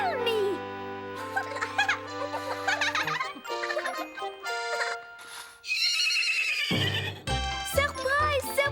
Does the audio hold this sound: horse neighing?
yes